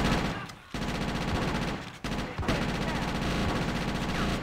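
Micro SMG gunfire in GTA: Chinatown Wars, rapid automatic bursts over game music with brief gaps, continuous and fairly loud throughout.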